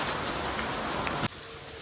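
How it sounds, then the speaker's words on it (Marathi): Heavy monsoon rain pours down in a dense, steady hiss near a waterfall, then abruptly drops to a much quieter background. "पाऊस पण जाम पडतोय"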